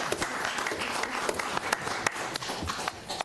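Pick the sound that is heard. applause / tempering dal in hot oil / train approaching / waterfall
applause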